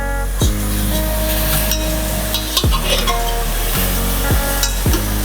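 Chicken sizzles loudly in a pan of AMC cookware cooked without oil or water, with a continuous close frying hiss broken by several sharp scraping knocks as the pieces are turned.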